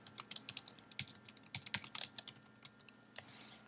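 Rapid, irregular clatter of keys on a computer keyboard as a document title is typed, dense bursts of close clicks over a low hum, trailing off near the end.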